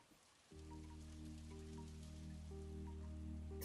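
Rain against a window in the VRChat video game, a steady soft patter with a low hum that swells in after the first half second and holds to the end, near and continuous, with no voices.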